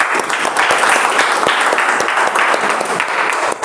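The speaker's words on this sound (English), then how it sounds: "Keep clapping." Steady audience clapping during an online meeting, a dense continuous patter of many hands at fairly even loudness, with individual claps poking through and no talking.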